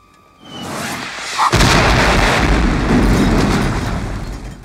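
A sharp blast swells into a long, heavy rumbling roar of a movie explosion that slowly fades.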